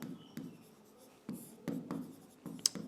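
Short scratchy strokes of writing on a board during a Sanskrit grammar lesson for class 10, several quick separate marks with brief pauses between them, close and quiet, no speech.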